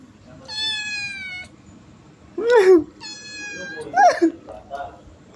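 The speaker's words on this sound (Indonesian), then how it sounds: "Ini yang merasa kehilangan kucingnya ada di rumah gue." A cat meows indoors at home, with two long, clear, close-up mews and shorter calls between them, while a person talks over parts of it.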